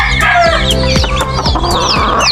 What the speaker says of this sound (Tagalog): sisiyo ng pabo saka may manok din